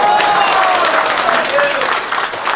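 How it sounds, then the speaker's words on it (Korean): Crowd at a Korean political rally applauding journalists, broadband clapping spread steadily across the whole stretch, with shouting and voices mixed in over the din. "박수 한번 보내주세요"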